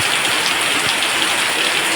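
Heavy rain pours steadily outside a home on a dark afternoon, a dense, continuous hiss with scattered drop impacts, close and loud with no voices over it.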